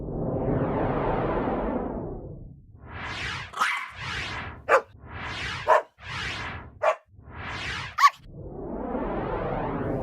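Several Labrador retrievers bark in short bursts, a few loud barks spaced across the clip with brief pauses between, close by.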